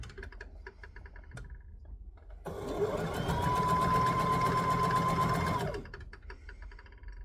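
A sewing machine stitches a lap quilt, starting abruptly after quiet handling noises, then running in a fast, even mechanical rattle with a steady whine for about three seconds before stopping.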